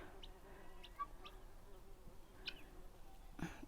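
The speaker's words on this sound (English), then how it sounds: "That is one of our honeybees, working hard." Honeybee foraging on borage flowers in a summer garden in the Ottawa Valley, Ontario, giving faint, brief buzzing passes over quiet outdoor background noise.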